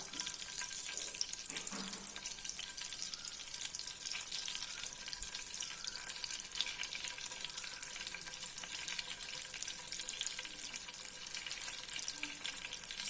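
Potatoes fry in melted butter in a kadai, a continuous crackling sizzle at moderate volume with a brief clatter near the start.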